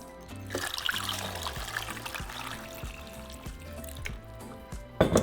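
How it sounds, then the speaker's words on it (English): Water trickles and pours in a soft, uneven stream over dried chiles de árbol, splashing gently into a container, close by, with a brief louder splash at the end. "So now we're going to cover them with water."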